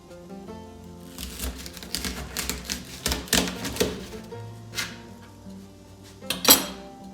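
A knife trimming asparagus spears on a cutting board, giving a run of irregular close clicks and taps with a few sharper knocks and a louder clatter near the end.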